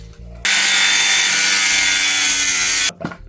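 A loud, steady, high-pitched power-tool cut through a metal mirror bracket for Chevy truck mirrors on a VW T4, running continuously for over two seconds close up, then stopping abruptly.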